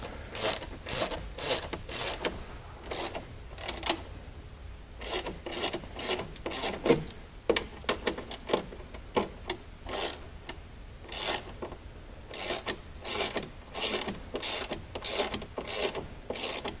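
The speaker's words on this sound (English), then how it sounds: "Grab the nut and tighten her down." A hand wrench tightens a nut on a rear mount of a Kawasaki Teryx UTV, producing repeated quick ratcheting clicks in bursts with short pauses, close up, with no voices.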